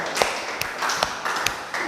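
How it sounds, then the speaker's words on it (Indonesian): Audience clapping after a school drama performance of Lutung Kasarung in a classroom or hall, sparse individual claps in a loose rhythm over about two seconds, fairly close and moderate in volume. "tepuk tangan"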